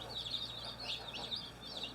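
Young Cornish Cross meat chickens raised on pasture give soft, repeated clucks and peeping calls in quick uneven bursts, faint and close against a quiet low hum.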